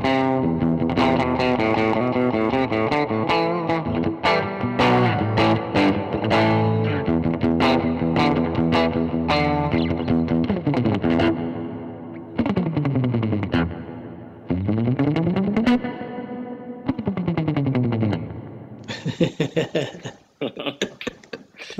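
An electric guitar runs through an Earthquaker Dispatch Master delay and reverb pedal, playing loud, continuous distorted chords and bends with long echoing tails, gliding surf-style slides in the middle, and scattered bright picked notes near the end.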